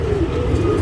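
A tournament racing pigeon, a top-class flyer, coos nearby in a low throaty rolling call, loud and close over a steady background.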